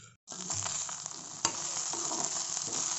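Pre-boiled fish frying in a pan, a close, steady sizzle that starts after a brief silence and holds continuous, with a few sharp crackles and pops.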